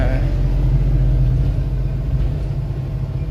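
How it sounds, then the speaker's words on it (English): A road coach passes close by, a loud low engine rumble and road roar that swells and then slowly fades. "That was a coach that's just gone past."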